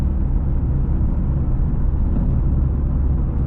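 A Corsa B GLS 1.4Si drives along in a steady, loud low rumble of engine and road noise, heard from inside the car without a break.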